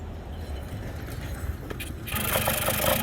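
Old Harvey Spooner KD80 engine cranking, then catching, with a scrape and clatter before it fires up into a louder, steady running roar in the last second; no talking.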